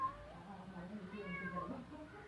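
A mother cat meows close by, giving a few drawn-out, wavering calls over soft background murmur.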